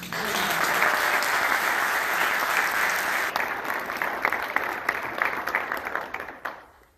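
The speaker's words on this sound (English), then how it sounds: "And I also want a round of applause for my fellow undergraduates." A university commencement crowd applauds graduating undergraduates, a thick roar of clapping that thins into scattered individual claps before fading out.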